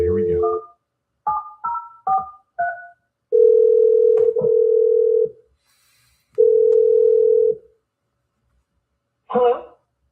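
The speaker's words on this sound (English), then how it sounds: "Let's dial Callie's number and see what she has to say." A telephone call being placed: a run of short dialing beeps, then long steady tones with gaps between them, loud and clear, followed by a brief burst of sound at the end.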